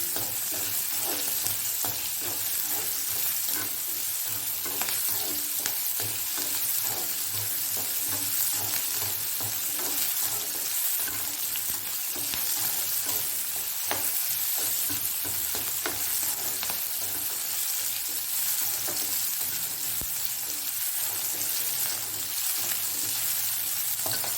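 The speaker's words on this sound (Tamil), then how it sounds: "தோலெல்லாம் போக வெங்காயம் நல்லா வதங்கும்." Onions sauté in a pan for an eggplant kosthu, a loud, continuous close-up sizzle with a steady frying hiss throughout and no voices.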